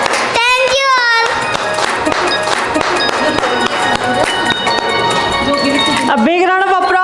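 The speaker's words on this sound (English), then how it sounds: "A big round of applause to Kaushik." An audience applauds, a dense run of clapping hands, with children's voices calling out at the start and end.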